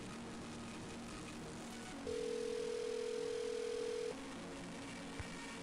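A telephone call placed to a pizza place in the 1998 Nancy Drew computer game Secrets Can Kill, with a steady ringback tone holding for about two seconds over a faint low hum and no talk.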